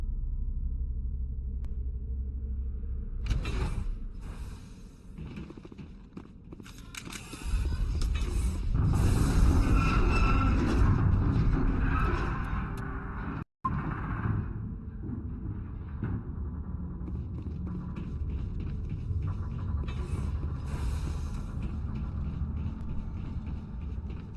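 Elevator ride in the Mass Effect video game: a steady low rumble and hum of the moving car runs throughout, swelling louder midway, with a brief cut of silence and no talk.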